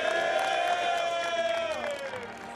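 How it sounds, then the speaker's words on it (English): A crowd gathered for a football team celebration cheers and whoops, with sustained shouting voices rising and then easing off, fairly faint and at a distance. "Give yourselves a round of applause for that."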